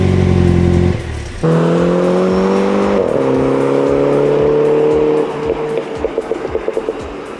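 A Mini John Cooper Works with 231 hp fires up after a brief hum, its engine catching and settling into a loud, close idle, then climbing in a rev before dropping back to a burbling, pulsing idle.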